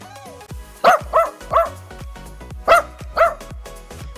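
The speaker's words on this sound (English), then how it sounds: "We have a dog barking when hearing a loud noise" A dog barks at a loud noise, five sharp, loud barks in an uneven rhythm, close by, with short quiet gaps between them.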